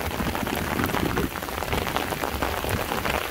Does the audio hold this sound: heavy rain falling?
yes